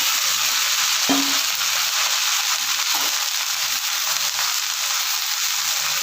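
Dried drumstick (moringa) leaves frying in a pan with green chillies, giving a steady, even sizzle throughout, with a few soft stirring knocks and no talking.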